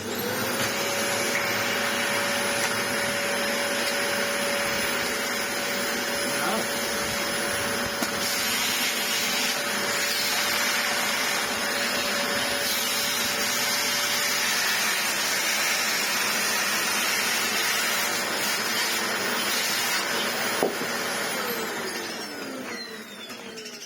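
A Dyson DC25 upright vacuum cleaner runs with suction in a loud, steady whine that holds unbroken throughout and tapers slightly at the very end, with no voices.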